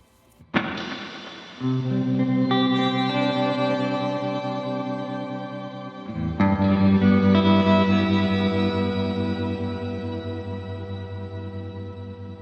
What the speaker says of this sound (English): I'm going to put the tape echo after the cabinet